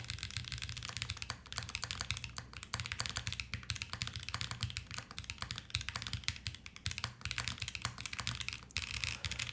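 Continuous typing on a curved mechanical keyboard with a lighter, airy sound, steady rapid keystrokes close up and alone throughout, with no talking.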